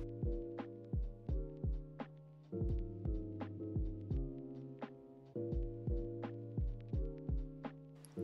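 Sewing machine stitching along the straight top edges of a fabric bodice piece for a shirred dress, a steady mechanical thumping rhythm with a low hum and a short pause partway, close and quiet with no talk.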